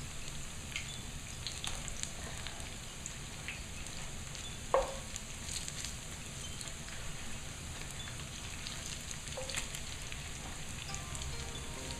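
Potato latkes for Chanukah frying in a pan, giving a faint, steady sizzle and crackle, with one brief clink partway through and no voices.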